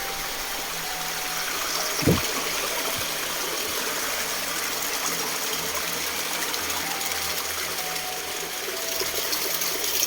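Continuous rushing river water fills the background, a steady broad roar with a brief louder splash or thump early on.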